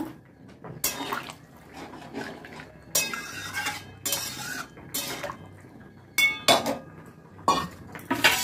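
Metal pot and lid clatter during cooking of papaya and potato in water, with several sharp clinks and knocks spaced across the clip over a low background, close and fairly loud.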